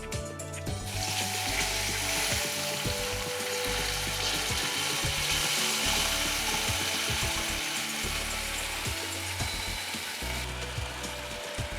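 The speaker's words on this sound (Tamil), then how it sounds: "புளி தண்ணியை ஆட் பண்ண போகிறேன்." Tamarind water poured into a hot pan for an ajwain dish sets off a loud, steady sizzle and hiss that runs the whole length without letting up.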